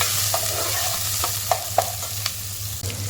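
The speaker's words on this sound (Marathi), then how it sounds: "थोडंसं हिंग कढीपत्ता एक कांदा कापलेला त्यांना परतून घेऊया" Onion sautéed with asafoetida and curry leaves in a pan: steady close sizzle with a low hum underneath, broken by several sharp scraping stirs of a spoon, no talking.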